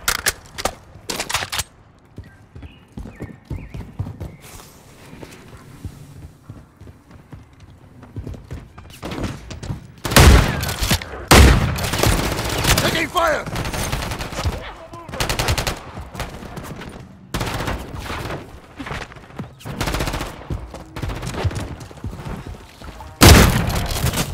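Gunfire from a Call of Duty MW3 firefight, with bursts of shots and booms that turn loud and dense in the second half, sharp blasts near the start and end, and quieter scattered pops and clatter in between.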